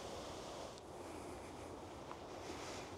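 Steady outdoor wind blowing in nature near an old tree, a continuous broad rushing noise with faint rustling, fairly constant in level and without any talk throughout.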